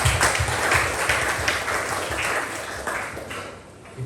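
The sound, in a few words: congregation applause for God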